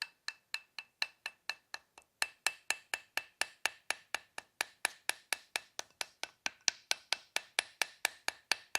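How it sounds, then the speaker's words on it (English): Steady, evenly spaced taps of a hammer around the edge of a part on a 1969 Camaro's suspension, about four per second, crisp and close, with a brief pause early on. "take a hammer, little tapping device, anything like that, and go around the edge of it and just tap it"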